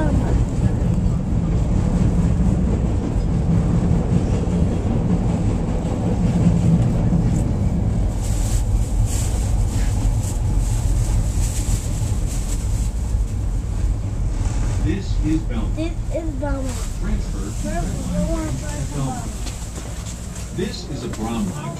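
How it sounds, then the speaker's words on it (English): Steady low rumble of a Chicago Brown Line elevated commuter train in motion between Kimball and Belmont, with wind-like noise throughout and a few brief squeals toward the end. "This is a Brown Line train to downtown."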